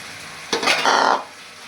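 Fresh pigeon peas (tuvar) drop into hot oil in a pan with a sudden sizzle and a short stirring scrape, a close burst lasting under a second before fading back to a low hiss.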